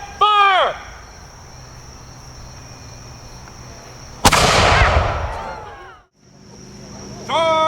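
A 3-pound field cannon fired by a militia at a Culper Spy Day event gives one sharp, loud blast followed by a roaring rumble that fades. Insects chirp steadily in the background and brief calls come before and after.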